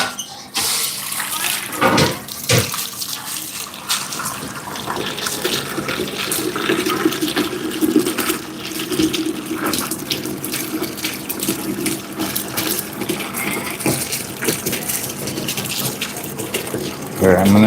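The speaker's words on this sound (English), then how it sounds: "I'm just filling up with some water before I cool down my pasta." Tap water gushes steadily into a pot in a busy restaurant kitchen, a loud, continuous splashing rush that holds for the whole stretch with only small shifts in tone.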